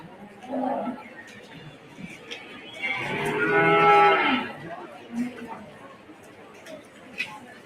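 A heifer calf moos in the show ring at a county 4-H beef show, one drawn-out, loud low call rising midway, with an announcer talking over the fair crowd before and after.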